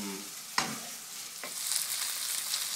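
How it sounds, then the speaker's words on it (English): Lamb shoulder browning in a pan for a Moroccan tagine, a bright steady sizzle with a couple of sharp tossing knocks, close up and free of speech. "So how long should you toss this meat for? Until it's brown."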